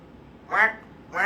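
A person imitates a duck's quack with their voice, giving two short, loud nasal quacks in quick succession.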